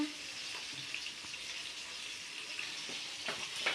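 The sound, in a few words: fish frying in a pan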